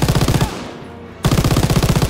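Close, loud machine gun fire in Call of Duty: WWII, D-Day, two rapid bursts of evenly spaced shots separated by a brief gap with a fading echo.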